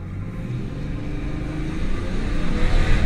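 A BMW 530d launches hard from a standstill under kick-down, its diesel engine a deep, rumbling roar that builds steadily in loudness over a few seconds, close by with no talking.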